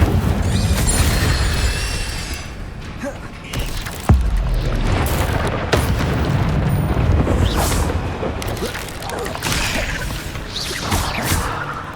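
Incendio fire spells cast in Hogwarts Legacy, a busy run of whooshing bursts and booming impacts with one sharp hit near the middle, loud and close amid ongoing combat clatter.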